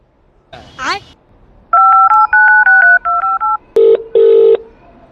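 Telephone keypad dialing, a quick run of about seven short, loud, evenly spaced touch-tone beeps, then two longer tones at a different pitch, with a brief voice heard just before the dialing begins.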